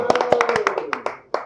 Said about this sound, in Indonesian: Wih, tepuk tangan jersey Arsenal